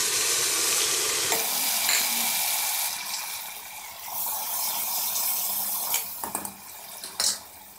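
Tomatoes going into golden brown onions frying for Lahori chicken haleem, giving a steady loud sizzle that eases off and is then broken by a few sharp clatters and scrapes of stirring, with no one speaking.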